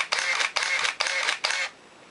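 Canon EOS camera shutter firing in continuous mode: four quick, evenly spaced mechanical bursts, close and crisp, then the sequence stops.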